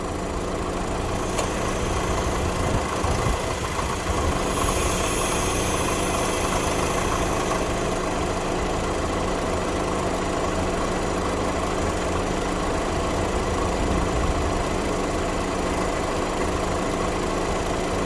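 A car engine idles steadily while the AC system is recharged with refrigerant, a constant mid-pitched hum with faint vibration running unbroken for the whole stretch and no talking over it.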